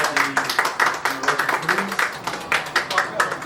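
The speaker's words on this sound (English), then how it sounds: "Can we get a round of applause for Mama Reggie?" An audience gives a round of applause at a Miss Universe Philippines candidate event, a steady crackle of many hands clapping that keeps going for a few seconds at moderate loudness.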